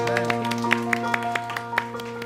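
Hands clapping in rhythm during a Mandarin-language Sunday church service, a steady run of sharp claps over sustained organ or keyboard tones, fairly close and moderately loud.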